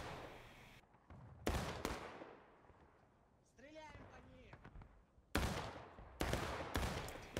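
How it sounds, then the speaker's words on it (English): Musket volleys ring out in the Civil War game Blue and Grey, several loud bursts of massed gunfire with rolling echoes, interrupted by a stretch of talk in the middle. "Looks like they're just going to fire"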